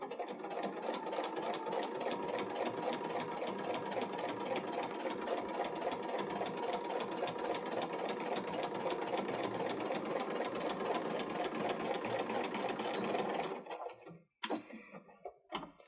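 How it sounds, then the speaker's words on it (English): A sewing machine runs steadily while top stitching around the edge of a water-resistant picnic blanket, a continuous mechanical whir with a rapid needle rhythm for about thirteen seconds before it stops, followed by a few faint handling noises. "head on over to the machine, close up your opening, and add a row of top stitching all the way around."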